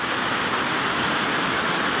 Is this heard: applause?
no